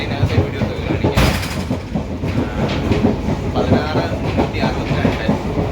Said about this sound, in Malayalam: ഞാൻ ട്രെയിനകത്തെ വീഡിയോസ് ഒക്കെ കാണിക്കാം